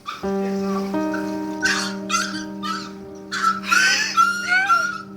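An 8-week-old puppy with its head trapped in a doorway whimpers and yelps in high, plaintive bursts over a steady droning tone, the cries rising and repeating.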